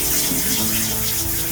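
Water runs steadily from a tap during a dog's soapy bath at a shelter, a continuous close rushing gush that fills the whole moment without a break.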